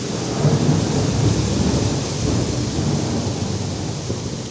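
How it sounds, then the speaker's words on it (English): Thunder rumbles in a long, continuous roll during a storm in the Argentine hunting country, mixed with steady heavy rain, loud and with no voices. "Little rain would do nobody harm, but thunder is something we would not want to feel"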